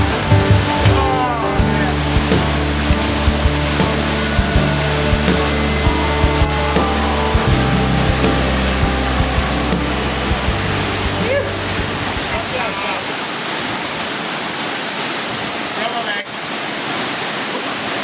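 Rushing roar of a waterfall on a canyoning outing, loud and steady throughout, with voices and other activity heard over it in the first part before the broadband water noise carries on alone.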